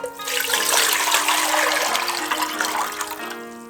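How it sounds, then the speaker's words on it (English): Water pours steadily into a pot for a wagyu and taro hotpot, a loud, close, continuous gushing stream with a faintly rising tone as the pot fills. "Pour in some water."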